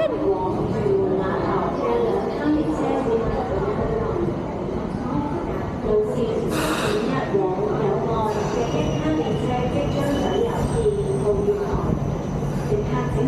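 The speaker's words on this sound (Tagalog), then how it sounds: "Ito yung ano, train na papunta ng Yunlong 615." A train bound for Yuen Long, Hong Kong rumbles steadily throughout, with a brief squeal of wheels midway; people talk nearby over the continuous rail noise.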